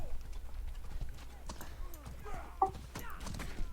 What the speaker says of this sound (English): And the horse comes in, takes out a guy.